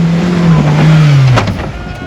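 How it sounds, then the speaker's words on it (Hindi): A petrol Mahindra Thar climbs off-road under steady throttle, its engine droning loud and close with a slowly falling pitch as it labors up the slope. "आपने थ्रोटल नहीं छोड़ा तो गाड़ी चढ़ती रहती है, चढ़ती रहती है।"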